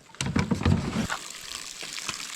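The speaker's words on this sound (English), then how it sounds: "I can hear it. You can see it right there coming out of the rock." Water trickles and splashes steadily out of rock in the background while a person's footsteps or movements crunch nearby at first; an outdoor spring flowing gently in the Algonquin backcountry.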